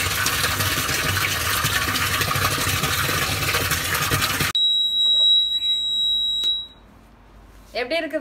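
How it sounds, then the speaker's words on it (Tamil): Water tank overflow alarm at a home motor setup, a sharp electronic tone piercing through after a loud stretch of rushing water-like noise; the beeping stands out clearly, then fades and a voice briefly talks at the end. "அங்கே மோட்டர் நிறைஞ்சு ஓவர் ஃப்ளோ ஆகும்போது இங்கே சவுண்டு கேட்கும்."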